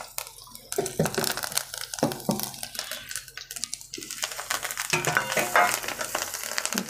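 Ground turmeric, homemade red chilli powder and masala sauté in a hot pan for homemade matki misal, a steady close sizzle broken by scraping and stirring strokes, with no talk over it.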